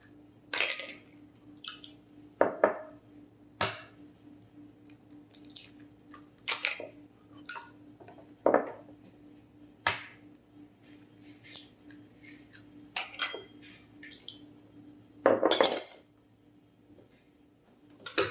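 Three eggs are cracked one after another into cake batter in a home kitchen, giving sharp clicks and taps, faint wet drops and scraping at irregular intervals over a low steady hum.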